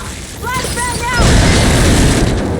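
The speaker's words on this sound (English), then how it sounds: "Flashbang out!" A flashbang grenade goes off in Gears 5. A short shouted voice comes first, then a heavy booming blast and a loud, lingering roar that fills the rest of the clip.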